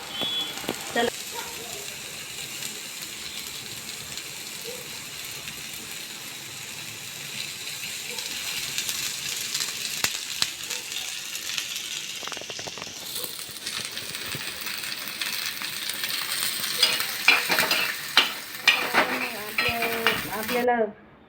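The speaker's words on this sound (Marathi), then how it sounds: "कांदा आपल्याला भाजून घ्यायचा आहे" Onion and tomato roasting in a pan for Vidarbha-style patodi curry, with soft sizzling plus clinks of a utensil against the pan that grow busier and louder toward the end, while a voice talks throughout.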